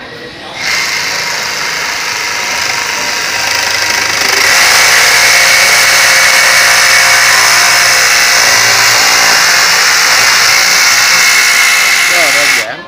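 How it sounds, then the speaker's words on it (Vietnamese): Makita cordless battery-powered handheld jigsaw making a test cut, a loud steady high-pitched buzzing whine that builds and holds for several seconds at close range, with no talk over it. "đây là cái máy cưa lọng pin cầm tay"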